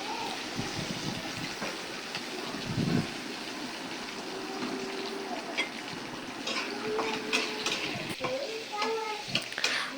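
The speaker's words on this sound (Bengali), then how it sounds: "তো এই যে এখন দেখেন পেঁয়াজ ভাজা হইতেছে" Onions frying in a pan, a continuous moderate sizzle with occasional stirring clinks and faint background noises, no clear talk.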